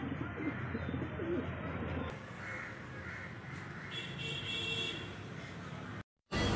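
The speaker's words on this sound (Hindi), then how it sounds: "सब उड़ने वाले कबूतर है।" Kaldume flying pigeons kept for sale in Andheri coo softly against a faint background hum, with muffled voices now and then and a short dropout near the end.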